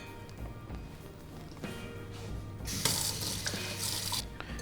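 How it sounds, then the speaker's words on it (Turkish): Tap water running into a sink while a bowl and strainer are rinsed during crème brûlée preparation, a steady close rush that grows louder and splashier partway through, with no talking. "Kabı ve süzgeci yıkayacağım."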